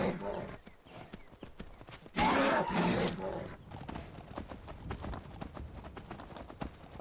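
Horse hooves clip-clop steadily across the ground in the Skyrim video game, a close rhythmic trot with a brief whinny-like burst midway and game voices speaking over parts of it.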